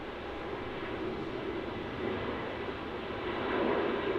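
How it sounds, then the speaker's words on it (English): Virgin Australia Boeing 737 at Melbourne Airport gives a steady, fairly faint engine roar in the distance that builds slightly toward the end. "that Virgin Australia 737 in the back there is flying up to Sydney"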